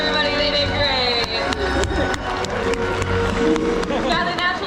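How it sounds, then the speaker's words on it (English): Audience applause at the SeaWorld San Diego orca show, a dense, loud crowd clapping that continues throughout with crowd noise underneath. "Give a big round of applause, everybody."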